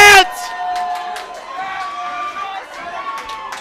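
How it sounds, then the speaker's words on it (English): A wrestling arena crowd roars and cheers after a high dive onto the ring, a loud continuous wash of shouting voices with excited peaks. "Crowd roaring in approval of Chris Steele right now"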